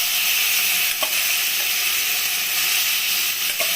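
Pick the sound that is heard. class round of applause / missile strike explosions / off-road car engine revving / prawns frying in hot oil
prawns frying in hot oil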